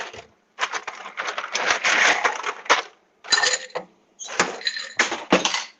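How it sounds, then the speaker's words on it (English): Ice cubes dropped and tumbled into a cocktail mixing glass, a run of sharp clinks and rattles in bursts with brief pauses, loud and close, with no talk. "Fill your mixing glass with ice."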